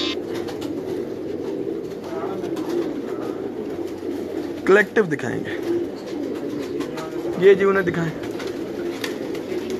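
Breeder pigeons in a loft cooing in soft low murmurs beneath ongoing conversation, with a couple of louder coos and rustles standing out now and then.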